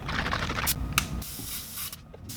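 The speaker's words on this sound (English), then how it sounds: "I just put some white on there, which is hard to clean out of an airbrush." An airbrush sprays white paint onto a carved wooden JitterBug fishing lure in short close hissing bursts with small breaks between them.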